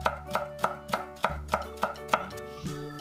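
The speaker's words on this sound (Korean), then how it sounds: "쪽파에 굵은 머리는 칼집을 주어 곱게 썰어주고 비주얼과 매콤함을 줄 홍고추는 씨를 제거 후 열십자 모양으로 칼집을 낸 후 곱게 썰어줍니다" A knife finely slicing scallions and seeded red chili on a cutting board, with about nine crisp, evenly spaced chops in a close, clear rhythm and nothing else heard.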